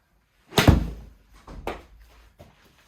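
A golf wedge striking a ball on full shots during an indoor wedge fitting: one sharp, close impact is followed by two softer, separate hits about a second apart in an otherwise quiet room.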